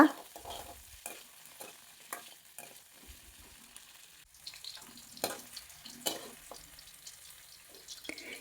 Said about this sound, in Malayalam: ഒരു 2-3 മിനിറ്റ് നേരം എണ്ണയിലിട്ടൊന്ന് വഴറ്റിയെടുക്കുക